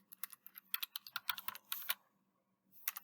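Keys clatter in a quick, uneven burst on a computer keyboard as a company name is typed, then fall silent before a few more taps at the end; close and clear with no talking.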